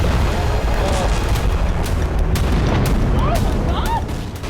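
Rocket strikes from a Hezbollah attack on residential areas, heard as a continuous loud rumbling barrage with sharp bursts and crackles, some whistling tones, and faint voices in the background.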